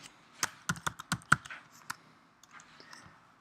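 Keys clack on a computer keyboard while text is typed into Adobe Illustrator, a burst of close, crisp strikes in an uneven rhythm that thins into a few lighter taps toward the end.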